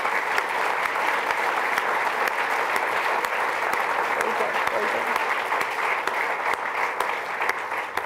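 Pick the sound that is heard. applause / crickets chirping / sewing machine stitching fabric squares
applause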